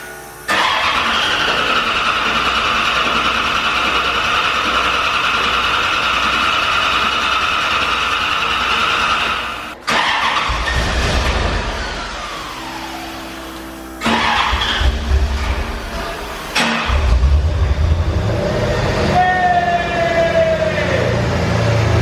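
A car engine started for the first time, loud and close: a long steady mechanical drone, then several cranking and revving attempts that surge, cut out and restart, ending with a rising whine.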